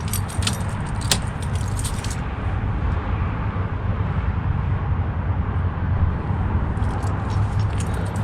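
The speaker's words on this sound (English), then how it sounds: "take the key out at this point" Keys jangle close by for the first couple of seconds as the key comes out of the ignition of a 2005–2014 Peugeot 107 / Toyota Aygo / Citroen C1. A steady low hum continues underneath and carries on after the jangling stops.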